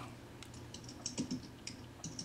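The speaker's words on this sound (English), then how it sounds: "Oh, you're typing something." Typing on a computer keyboard: a quick irregular run of light clicking keystrokes, close by, with a faint room hum beneath.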